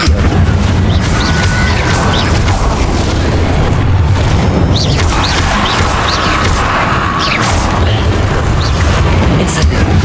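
An Incendio fire spell is cast in Hogwarts Legacy, and a loud roaring burst of magical flame and booming impacts carries on without letup under the din of combat, with voices heard now and then.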